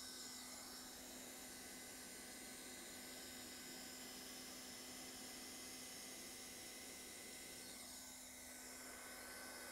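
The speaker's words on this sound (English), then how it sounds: "we're going to begin by installing a tack weld there just to hold the corner into place" A hot-air welder blows a steady, faint hiss and whine while tack-welding a pre-molded TPO roofing corner, running continuously with no voices.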